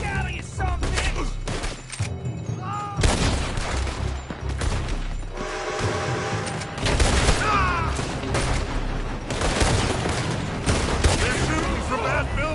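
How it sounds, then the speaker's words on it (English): Heavy gunfire rings out in Red Dead Redemption II as shots come from a building, loud bursts and rapid volleys repeating across the scene with shouted voices mixed in. "They're shooting from that building!"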